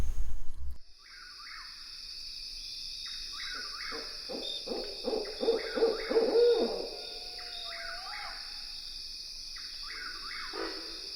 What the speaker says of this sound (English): Barred owls hoot, "Who cooks for you?"